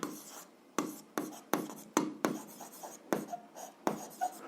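Pen strokes scratching across paper as an algebra exercise is written out by hand, coming in quick repeated bursts with short pauses between them, close and fairly quiet, with no talking.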